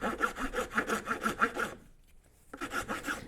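Steady rhythmic strokes of a file rasping against a Topper dinghy daggerboard, about a dozen close, even passes, a brief pause, then the filing resumes.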